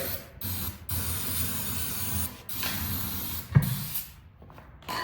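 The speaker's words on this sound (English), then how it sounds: "Get a little bit of spray." Steady hissing spray from an aerosol can of starter fluid in several long bursts with short gaps between them, close by and fairly loud, while starting a large custom three-wheeler.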